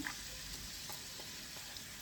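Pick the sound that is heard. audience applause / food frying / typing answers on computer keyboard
food frying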